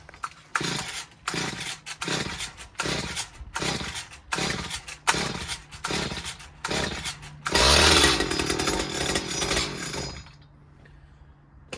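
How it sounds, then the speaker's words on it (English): An old two-stroke petrol hedge cutter runs outdoors in a series of rhythmic revving bursts, about a dozen surges, then a longer sustained roar before dropping back to a quiet idle, loud and close with no speech. "Just love old 2-stroke petrol machines."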